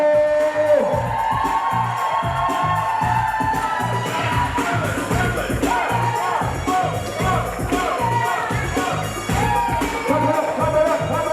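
Wedding reception crowd cheering, whooping and clapping after the newlyweds are introduced, a loud continuous roar with rhythmic claps, mixed with thumping music.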